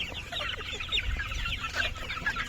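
Backyard chickens clucking while being fed, several birds close by with overlapping soft clucks and murmurs over low background rumble.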